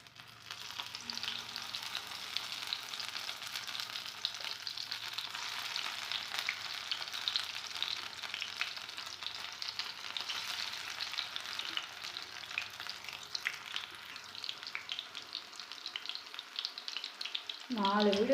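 Fish pieces frying in hot oil in a home kitchen, a steady broadband sizzle holding close and even for the whole stretch, with a brief clatter right at the end.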